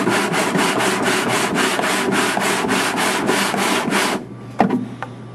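Guitar kerfing is sanded by hand with 80 grit sandpaper in quick, even back-and-forth strokes, a loud rhythmic rasping that stops abruptly near the end, followed by a couple of light knocks.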